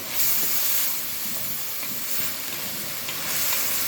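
Spices, pepper, cumin, a cinnamon stick, bay leaves and a stock cube sizzle in a cooking pot, giving a steady close hiss of frying that holds through the whole stretch with no voices.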